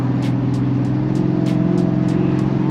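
Supercharged drone of a turbocharged Dodge Challenger SRT8 engine under hard acceleration while racing a Mustang GT, a steady loud harmonic roar with rapid pulsing and periodic high-pitched bursts, continuous and close.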